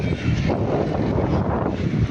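Steady, heavy wind buffeting the microphone outdoors during a pigeon race, a constant low roar with no pauses and no voices.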